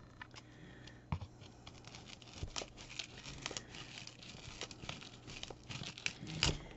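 A blade cutting through foam board gives a dry, scratchy crinkling and tearing, in many short bursts with occasional sharper snaps, close and fairly quiet with no talking.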